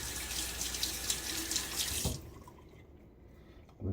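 Water runs from a tap in a steady hiss for about two seconds, then shuts off, leaving quiet room tone and a soft clunk at the end.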